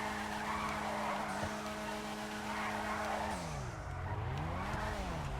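A car drifting in GTA Online, engine droning steadily at high revs with layered harmonics, then dipping and swooping in pitch as the tires squeal, loud and continuous without talk.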